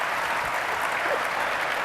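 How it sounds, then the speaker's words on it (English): A conference audience claps for a LittleBigPlanet game demo at GDC 2007, producing brief, steady, full applause from a large crowd with no talking on top. "Please give them a round of applause."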